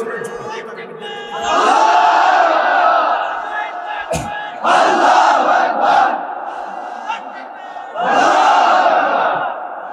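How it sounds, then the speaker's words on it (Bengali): A crowd at an Islamic sermon roars the Nara-e-Takbir slogan in three loud call-and-response bursts, a single voice leading each call and the gathering answering in unison. "জোরালো তাকবীর দেন তো দেখি একজন"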